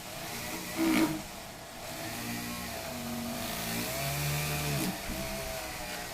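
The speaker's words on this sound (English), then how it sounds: "I went ahead and increased the power on the drill so I could put a little bit more pressure on here" Power drill running at increased power while pressing on a workpiece for a steam wagon build, a steady close whine with shifting motor pitch that rises and falls over about six seconds, no talking.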